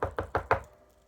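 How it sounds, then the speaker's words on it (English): Four quick knocks on a door in an even rhythm, close and crisp, with the last one ringing out slightly before silence. "She swooped down and she knocked on the door."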